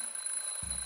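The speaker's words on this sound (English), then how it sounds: "just testing the smoke detector" A steady high-pitched electronic whine of a smoke detector alarm in The Journey Down video game, held continuously at moderate loudness, with a low thump entering near the end.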